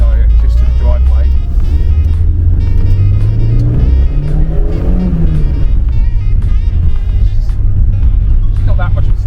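A classic Porsche bought on eBay, running for the first time in 15 years, drives along a residential street toward home with a loud, close engine drone that rises and falls through gear changes, with rattles in the cabin.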